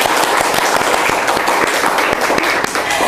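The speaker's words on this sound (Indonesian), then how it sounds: "mari kita sambut Kak Izzy dengan tepuk tangan yang meriah." Audience applause bursts out loud and dense with sharp, rapid claps welcoming a guest onto a stage, continuing steadily throughout with no talking.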